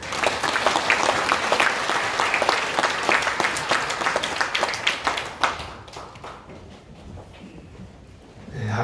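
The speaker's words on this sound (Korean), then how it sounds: "우리 소장 나오실 때 박수로 환영하겠습니다." A church congregation at a Sungkyul church ordination thanksgiving service applauds to welcome the director. Steady, fairly close clapping fills the room for several seconds, then thins out and fades into quiet.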